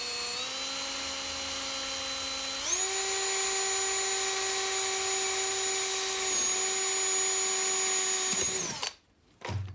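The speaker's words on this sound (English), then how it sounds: "So now you drill a second one." A power drill whines close up while boring a hole through a metal can for a rocket stove. It spins at one pitch, steps up to a higher, steady speed, then cuts off abruptly near the end.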